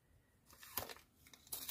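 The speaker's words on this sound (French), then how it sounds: "Je vais prendre du scotch." Sticky tape is pulled and torn from a roll while a school booklet is being prepared, giving a few quiet, short ripping and crinkling sounds close by.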